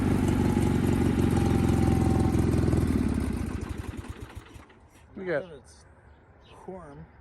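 Sears GT 19.9 big block lawn tractor engine idling loudly and steadily up close for about four seconds, then cutting off as quieter voices talk over faint background.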